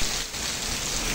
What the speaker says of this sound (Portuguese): que chuva maravilhosa